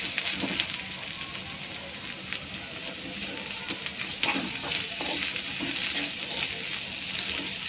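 Wild greens and onion fry in a pan with a soft, steady sizzle, broken by scattered clicks and scrapes of a spoon stirring them, close up and with no voices.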